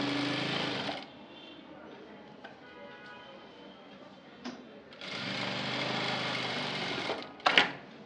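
Sewing machine stitching the neck of a blouse, a steady mechanical whir in two bursts, the first about a second long and the second about two seconds, separated by quieter handling sounds and a brief clack near the end.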